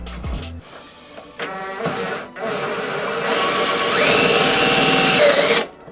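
Power drill boring into the inside of a car's front bumper on a Nissan S13 Rocket Bunny build, a steady close whine that climbs in pitch and runs continuously for several seconds before cutting off.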